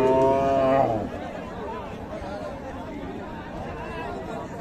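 A cow lets out a loud, close moo that lasts about a second at a busy cattle market in Raniganj, Dinajpur, and crowd chatter fills the rest.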